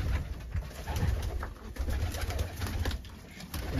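Pigeons of Turkish breeds, including a white butterfly-patterned male, coo steadily in a loft, soft layered cooing with faint rustling and no talk.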